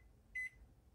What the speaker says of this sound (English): I'm just going to run it through the microwave, put it on the defrost cycle